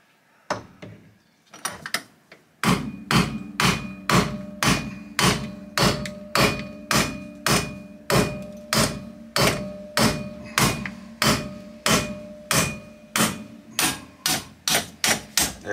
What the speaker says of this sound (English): That is a man-sized hammer.